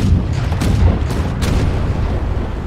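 Video game boss fight with heavy guns firing, a steady low rumbling barrage with a few sharper booms, loud and continuous, no voices.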